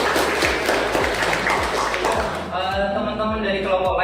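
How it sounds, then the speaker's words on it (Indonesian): A classroom group gives brief applause, a burst of clapping with rhythmic taps for about two seconds, before a voice talks over the tail end. "Kasih aplaus dulu."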